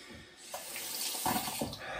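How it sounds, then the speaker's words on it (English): Cold tap water runs into a sink for rinsing, a steady close splashing hiss that swells and shifts as something is moved under the stream, with no talk. "rinse this off in cold water, cold Swedish water"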